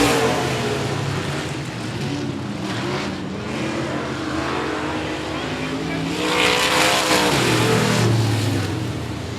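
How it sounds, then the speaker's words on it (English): Limited modified race cars roar past under green flag on a speedway, engines loud and sustained with a rising surge as the pack passes, a public-address voice running underneath. "We are green flag racing in the limited modifieds."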